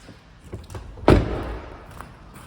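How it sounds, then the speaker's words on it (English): The tailgate of an Audi A1 S Line hatchback is opened with a single solid thunk, close by and moderately loud, followed by a short fading rumble. "And as we open the tailgate"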